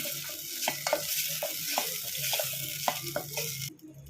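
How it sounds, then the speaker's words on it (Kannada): A spice tempering fries in a pan with a soft steady sizzle, punctuated by repeated light scraping and clinking strokes of a spoon stirring, close and moderately quiet, ending abruptly. "ಇನ್ನೊಂದು ಸ್ವಲ್ಪ ಫ್ರೈ ಮಾಡ್ಕೊಳ್ಳೋಣ."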